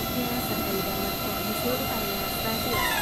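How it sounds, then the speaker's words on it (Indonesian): A small drone hums and whines steadily at a railway station in Yogyakarta, held at a constant level under busy station ambience, with voices talking over it. "Bima, tuh ada yang nerbangin drone."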